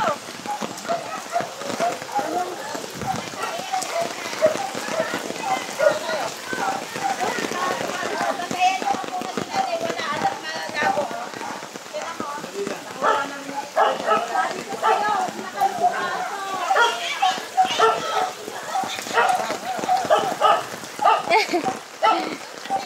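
Heavy typhoon rain from Typhoon Carina pours in a dense, constant wash while several people shout and talk over it nearby during an evacuation.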